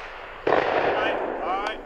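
A single shotgun blast fired at a thrown target outdoors, a sharp loud crack followed by a brief fading rumble, close by, with people talking around it.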